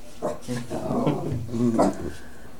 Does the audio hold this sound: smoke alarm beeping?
no